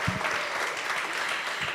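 Audience at a book launch in the Kigali Public Library claps in a steady, full round of applause, many hands blending into a continuous dense patter throughout the short stretch.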